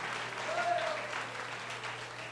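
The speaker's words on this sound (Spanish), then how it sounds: "Dele la ofrenda de aplauso a ese Dios maravilloso." Church congregation applauds in a steady, moderate wash of clapping that holds across the whole stretch, with a faint voice rising briefly over it.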